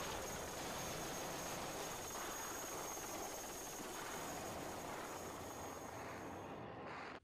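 Helicopters during the 1975 evacuation of Saigon, a faint, steady rotor and engine drone heard at a distance, continuous and alone until an abrupt cut at the end.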